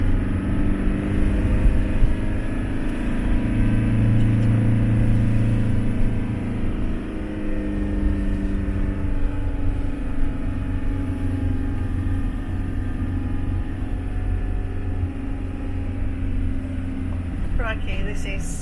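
A car climbs a steep hill in first gear on a coastal road in the west of Ireland, giving a steady, loud, low engine drone with a rumbling tone throughout.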